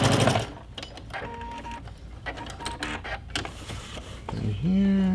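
A sewing machine fitted with a walking foot stitches a quilted pillow back in quick whirring bursts, pausing between runs, with someone talking over and between the stitching.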